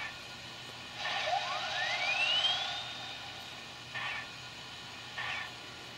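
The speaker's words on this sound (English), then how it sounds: "we heard the dynamo wind up" A rising electric whine as an MTH HO cab forward model locomotive's ProtoSound 3.0 dynamo winds up, sweeping steadily upward for a couple of seconds over a steady hum, followed by two short bursts of hiss.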